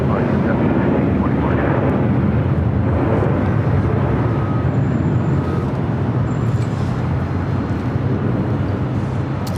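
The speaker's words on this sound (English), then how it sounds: "Just the 5024 coming to the approach today." An airliner on approach at LAX gives a loud, steady broadband roar that fills the whole stretch with little change in level, with a hint of voices underneath.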